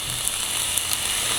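A pan sizzles steadily as food sautés with garlic powder and pepper, a close, even frying hiss with small crackles running through it.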